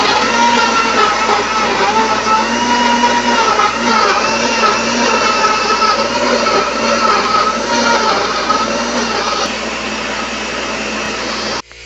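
A kitchen blender whirs loudly and steadily as it purées chopped carrots, four eggs and half a cup of oil for a carrot cake batter, running close by for about twelve seconds before cutting off abruptly.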